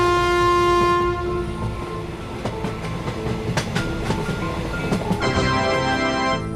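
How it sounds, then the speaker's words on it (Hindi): A cartoon train pulls away from a railway station, opening with a sustained horn blast, then a steady rumble and clickety-clack of wagons on rails, before the horn sounds again near the end. "तभी ये ट्रेन यहाँ से जाने लगती है"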